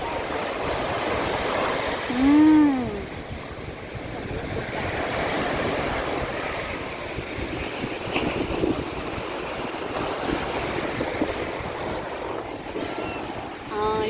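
Waves wash ashore at Rushikonda beach under a constant rush of wind buffeting the microphone, with a brief tonal whistle-like call early on and a steady roar of surf throughout.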